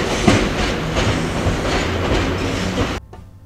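A train rolls slowly into a JR rail depot on the Takasaki Line after the points are switched, with steady rumble and wheel clatter close by that cuts off abruptly near the end.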